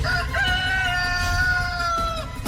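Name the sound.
rooster crowing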